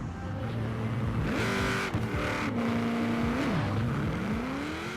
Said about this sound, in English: I'm just going to see how the car launches.